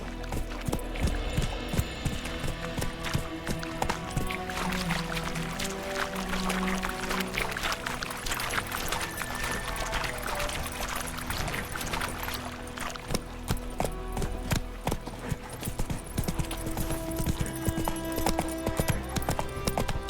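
The horse's hooves clip-clop steadily at a walk in The Witcher 3: Wild Hunt, with layered game ambience and soft splashy sounds behind them.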